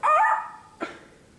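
A single dog barks loudly up close, then a second, shorter bark follows after a pause, set in a game environment with a TV playing nearby.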